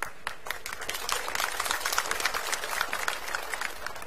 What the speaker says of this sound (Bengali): বললেই হাতিতালি দেয়